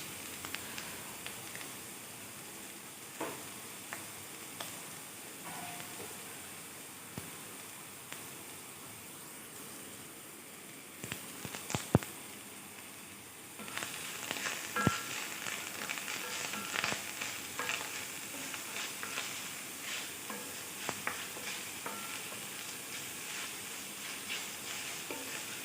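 Sliced onion, slit green chilies, cardamom and curry leaves fry in a pan, giving a steady soft sizzle throughout that grows louder and busier about halfway through, with occasional scrapes of stirring and no talk.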